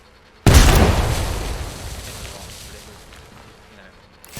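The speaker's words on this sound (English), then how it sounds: "I throw Frag out. underneath that bubble." A frag grenade explodes under Gibraltar's dome shield in Apex Legends: one sudden, loud boom that rolls off into a long, fading rumble lasting several seconds.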